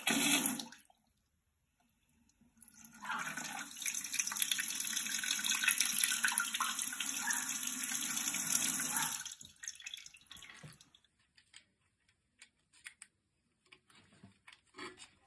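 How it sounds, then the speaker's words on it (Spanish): Tap water rushing into a toilet cistern through a repaired fill valve, a steady hissing flow running for several seconds close by, then stopping and leaving faint drips and small clicks. "voy a abrir el agua para que veáis la diferencia que hay de antes y ahora"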